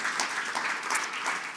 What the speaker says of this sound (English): I would like us all to give a round of applause to our amazing panelists this morning.